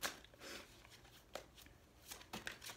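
Tarot cards being shuffled in bursts of quick riffling swishes, close and fairly soft, with brief pauses between the runs.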